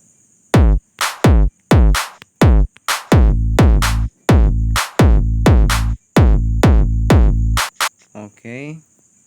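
Layered full kick and bass pattern programmed in FL Studio Mobile, a loud rhythmic run of punchy thumps with booming low tails, repeated about a dozen times, with a brief voice at the end.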